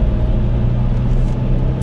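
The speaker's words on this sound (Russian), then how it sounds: "А вот теперь попробуем послушать, какая же шумоизоляция у этого автомобиля" Cabin noise inside a Volvo XC90 at highway speed over 100 km/h, a constant loud low road and engine drone with steady tyre roar and no talking.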